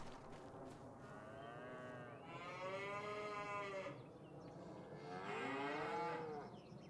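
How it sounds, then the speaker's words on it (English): Cows mooing in the Farming Simulator 25 video game, two long, drawn-out moos a second or two apart, clear and fairly close over a faint ambient background, with no talking. "We now have 12 cows in here."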